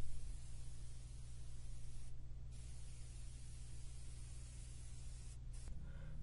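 A paint sprayer painting a stucco house exterior hisses continuously with a low steady hum beneath, briefly cutting out twice before resuming.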